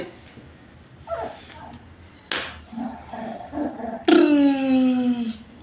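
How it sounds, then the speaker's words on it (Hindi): Young puppies letting out a few short yips and squeaky barks, scattered and close, with a final longer whining bark, faint background noise between. "अब इनका देखना ये भौंकेंगे"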